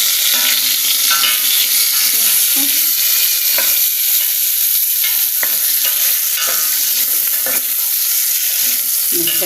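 Vermicelli dough being stirred and turned in a hot pan sounds like a loud, constant close sizzle, with scattered clicks and scrapes of the utensil against the pan.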